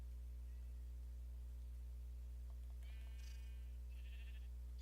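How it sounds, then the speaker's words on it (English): Sheep bleating in the Minecraft video game, a few short, quiet bleats late in the clip over a steady low electrical hum, with no talk. "We can get the sheep going again."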